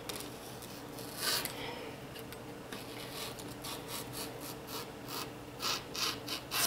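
Scissors cutting through a paper sleeve pattern, with soft, close rasping snips in short irregular bursts and no talking.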